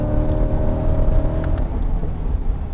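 Chevrolet Corvette C8 evo driving on a race track, a loud continuous engine rumble with a whirring drone that drops off as the throttle lifts, with a few brief tyre or road noises near the end.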